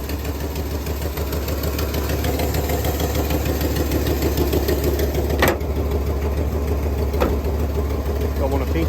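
The engine of a 1975 Lincoln Continental fed from a racing fuel cell runs at a steady idle, a continuous low rumble with a couple of brief sharp clicks or knocks partway through.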